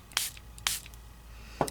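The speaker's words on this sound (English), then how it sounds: "So I'm going to spray maybe a little bit more water." A spray bottle spritzes water onto Distress Stain ink in three quick, close bursts, two in fast succession and a third after a short pause, over quiet room tone.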